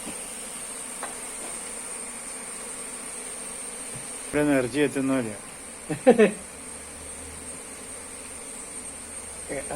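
Bees buzz around an opened beehive box, a steady insect drone running beneath a voice as he speaks in short bursts over it.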